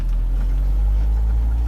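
A 1991 Nissan Atlas tipper truck engine idles steadily close by, a low rumbling drone that holds constant without revving.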